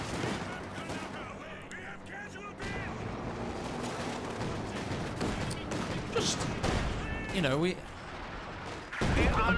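A StuG assault gun in a World War II strategy game fires amid scattered gunfire and explosions, while excited commentary runs over the top.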